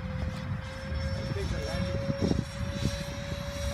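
A radio-controlled model A-10 jet flies past with a steady, high-pitched engine whine, while voices talk and call out over it at moderate distance.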